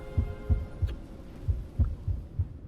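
A steady heartbeat sound from the Honkai Star Rail video game thumps in a regular double-pulse rhythm, low and throbbing over a faint hum, clear and close with no talking.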